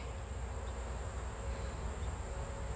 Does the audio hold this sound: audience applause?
no